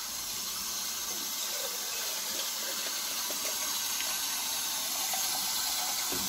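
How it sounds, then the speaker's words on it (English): Water being poured into an old-fashioned coffee percolator, a steady, soft splashing trickle that continues throughout, close and fairly quiet with no talking. "So we're gonna put a little water in here."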